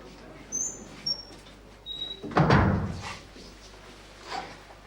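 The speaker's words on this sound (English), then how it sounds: "Close the door, Ted." A door pulls shut in a police station, one solid thud rising mid-clip over a low room hum, with faint rustling and small knocks before and after.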